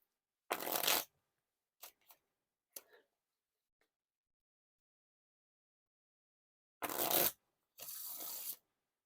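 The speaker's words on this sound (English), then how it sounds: "But they're still pretty smooth for the riffle shuffles." Quick riffle shuffles of Carvers v2 Pumpkin Edition playing cards, short bursts of fluttering clicks separated by silence and a few soft taps, close up.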